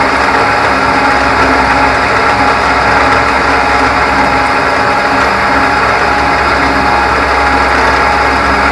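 A milling machine turning a 12 mm four-flute cutter at 1000 RPM runs with a steady, loud mechanical hum and grinding texture, unbroken throughout.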